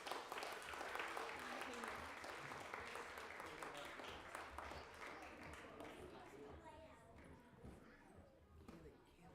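A Sunday congregation claps together during a winter holiday service, a broad, steady patter of many hands that slowly thins and fades toward the end.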